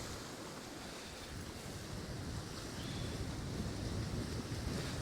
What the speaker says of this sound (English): Getting a bit blustery.